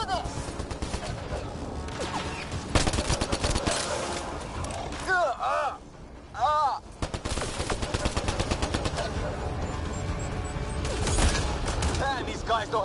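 Rapid automatic gunfire in the video game Mass Effect: Andromeda, loud, dense volleys rattling almost without pause, broken by a couple of brief lulls where voices shout over the fighting.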